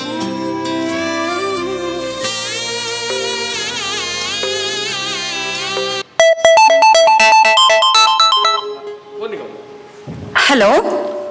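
A mobile phone ringtone plays during a Tulu stage play, a loud melodic electronic jingle with bright repeating beeps that follows a run of music, with a brief burst of voice near the end.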